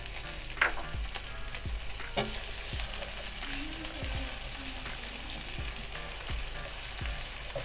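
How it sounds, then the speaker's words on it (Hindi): Fried onions softening in a few spoonfuls of oil in a pan for chicken cheese naan filling, a steady close sizzle broken by regular spoon scrapes and stirring knocks. "फिलिंग करने के लिए हमने 2 से 3 चम्मच ऑयल के डाले हैं। अब इसके अंदर फ्राई प्याज को हम थोड़ा सा ना नरम करेंगे।"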